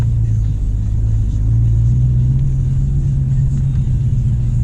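A manual-transmission Dodge Challenger rolling slowly with a steady, loud low engine rumble that holds throughout, with no voices over it.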